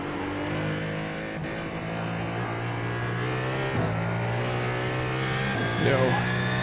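GT race cars drone through a Belle Isle racing video game, a steady engine whine rising and shifting pitch as cars pass, with a brief quicker sweep near the end; a voice occasionally talks over it.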